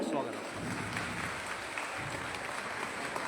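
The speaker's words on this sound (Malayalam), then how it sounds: "അപ്പോൾ ബഡ് സ്കൂളിലെ ടീച്ചറിന് വേണ്ടിയും വലിയ ഒരു കൈയടി കൊടുക്കണം" An audience claps for a Bud School teacher at a Kudumbashree CDS anniversary function in Chadayamangalam panchayat, steady dense applause throughout with faint voices mixed in.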